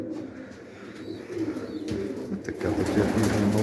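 Soft cooing of pigeons in low murmuring phrases during breeding season, with faint chirps and a steady outdoor background that grows a little louder toward the end.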